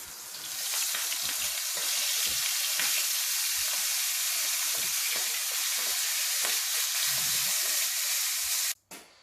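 Loud, continuous frying crackle of stuffed squid in hot oil in a pan, steady throughout with scattered pops, ending abruptly.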